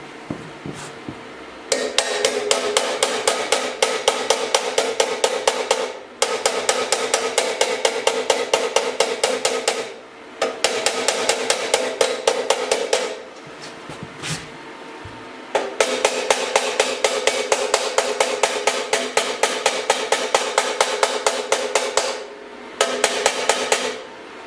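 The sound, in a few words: small hammer tapping motorcycle exhaust metal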